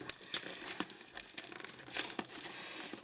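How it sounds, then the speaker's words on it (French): Paper being snipped and crinkled while a parcel of cards is opened with scissors, a run of short, close, crisp cuts and rustles with no talk. "faut que je fasse gaffe avec mes ciseaux là."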